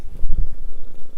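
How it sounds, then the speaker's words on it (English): A cat purrs right up against a microphone, a close, loud, low rumbling purr that fills the short moment on its own. "can you hear me, or is it mostly just cat purr?"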